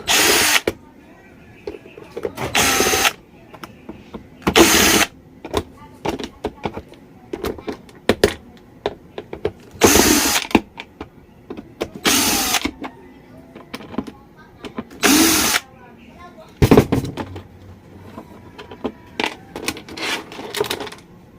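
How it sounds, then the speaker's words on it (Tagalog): A power screwdriver backs screws out of a Bluetooth speaker casing in short, loud whirring bursts separated by pauses, with small clicks and rattles of screws and parts being handled in between. "Remove muna tayo mga ka-DIY ng mga screw."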